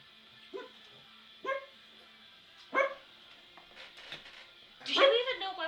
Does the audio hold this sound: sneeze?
no